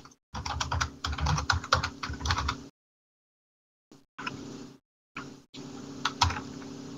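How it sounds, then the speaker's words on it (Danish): Close, steady clatter of typing on a computer keyboard comes in quick rhythmic bursts, broken by a few seconds of silence before the keystrokes resume. "Så jeg skriver lige ned i chatten"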